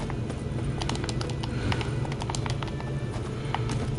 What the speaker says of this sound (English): Ok, ocupamos el caballo.